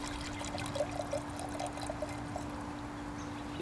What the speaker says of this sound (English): Let's do a little pour here.